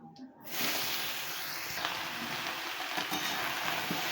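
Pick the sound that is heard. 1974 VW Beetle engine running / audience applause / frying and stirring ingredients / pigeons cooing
frying and stirring ingredients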